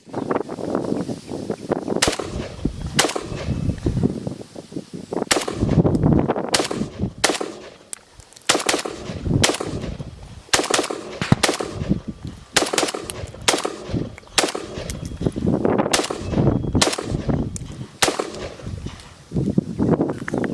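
Rounds from an AK-47 rifle fired on a range, loud sharp reports at an uneven pace, single shots and quick clusters, over steady outdoor background noise and echoes of other gunfire.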